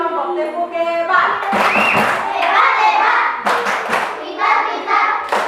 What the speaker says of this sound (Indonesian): Tepuk hebat.